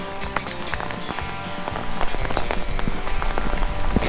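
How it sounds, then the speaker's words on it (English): Large hailstones pelt a dirty patio of pink and white flagstone paving, making a dense, loud, irregular clatter of hard impacts close by that grows heavier partway through. "these hailstones, look at the size of them"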